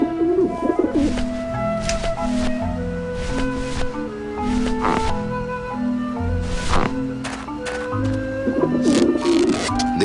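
Pigeons coo on a rooftop beside a dish vent in the video game Grim Fandango Remastered, soft repeated cooing over steady ambient game music and a low background bed, no speech.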